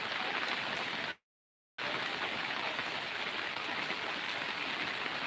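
Heavy rain pours down at a chicken farm in Mukshudpur, a dense, loud, unbroken hiss that cuts out for a split second before resuming; no voices.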